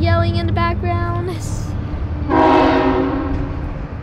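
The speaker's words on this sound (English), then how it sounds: "So there's a train yelling in the background." A train horn blares loud and near a gas station in Kansas, sounding in sustained chordal blasts with short breaks, then one long final blast over a steady rumble of the passing train.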